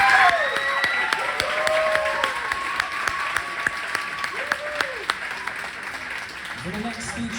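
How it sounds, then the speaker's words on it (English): Sustained applause fills a wedding reception hall as guests clap for the maid of honor after her speech, a dense steady wash of clapping with scattered whoops and faint voices mixed in throughout. "a round of applause to your maid of honor, Rachel."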